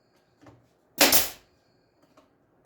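A brad nailer fires into a wooden coin display in one loud, sharp pneumatic burst, preceded and followed by faint handling clicks in an otherwise quiet room.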